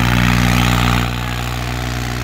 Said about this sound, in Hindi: 36-30 सुपर प्लस प्रदीप फौजी का ये ट्रैक्टर है गांव खापड़ वास्ते